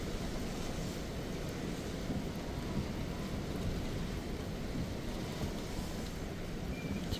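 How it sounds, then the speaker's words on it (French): Heavy rain pours down during Storm Jana on the coast at Cap Couronne, Martigues, a dense, constant hiss and rumble that stays loud and even throughout with no voices. "Tombe des trompes d'eau."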